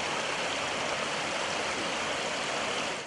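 Water rushing from the Weija Dam spillway on the Densu River, a steady, broad roar with no change in level, heard alone without voices.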